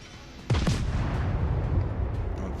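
Naval gunfire at an enemy cruiser in World of Warships: a heavy deep boom bursts in and rolls into a sustained low rumble of battle noise.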